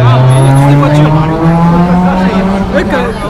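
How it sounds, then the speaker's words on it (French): Cars drive along a Tokyo street, one engine rising and falling loud and close as it passes, with people talking nearby. "Des voitures."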